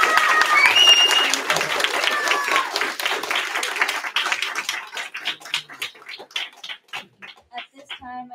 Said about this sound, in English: let's give the artist one more round of applause.